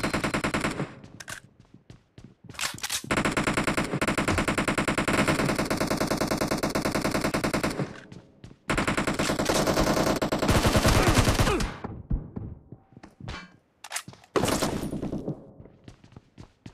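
Sustained automatic gunfire from a BGMI (Battlegrounds Mobile India) team deathmatch, loud and dense bursts running for several seconds at a time, broken by short pauses.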